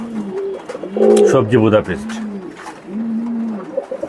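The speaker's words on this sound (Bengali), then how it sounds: "এটা হচ্ছে একটা রেসার কবুতর, বার্লেস রেসার, বেলজিয়াম ব্লাড লাইনের অরিজিনাল" Belgian-bloodline racer pigeons coo in deep, throaty, repeated rolling calls close by, with a louder burst in the middle, while someone talks over them.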